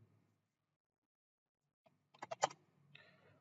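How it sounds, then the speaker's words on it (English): After a long quiet pause, a short burst of several crisp keystrokes sounds close by as a wget command is typed on an Ubuntu 24.04 machine, followed by a faint trailing hum. "let's type our first command"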